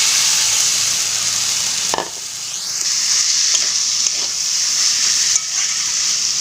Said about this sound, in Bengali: সব কিছু ভালোভাবে একসাথে কষিয়ে নিতে হবে।